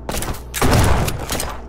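Gunfire in the Flashing Lights police game comes as a rapid burst of loud, punchy shots with heavy thuds, one strong volley in the middle, close and dense.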